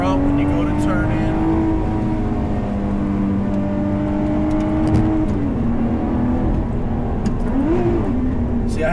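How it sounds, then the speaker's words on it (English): A 2020 Lotus Evora GT's engine hums steadily at close range, its pitch wavering and stepping as the throttle is blipped on a downshift, with a quick rise near the end; a person talks over it. "See, I had to give it two blips there because the first one was too stabby"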